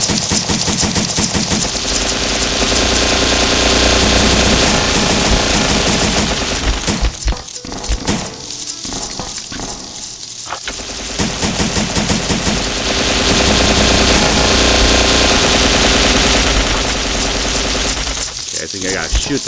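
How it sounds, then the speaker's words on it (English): Near-continuous rapid gunfire from the Resident Evil Survivor video game, loud and dense bursts with a brief lull midway, overlaid on game sounds. "I think I gotta shoot them while they're in midair."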